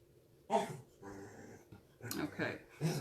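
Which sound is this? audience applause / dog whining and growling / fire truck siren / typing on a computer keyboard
dog whining and growling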